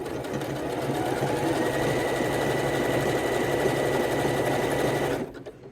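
A sewing machine zigzag-stitches fold-over elastic in one continuous, fast, rattling run, close and steady for about five seconds before stopping abruptly.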